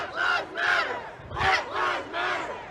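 A protest crowd in Atlanta shouts in rhythmic chant bursts, loud massed voices rising and falling in a steady repeated cadence outdoors.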